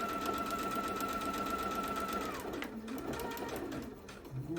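A sewing machine stitches a foundation fan quilt block in a steady, close whirring run that slows and stops near the end, then resumes briefly.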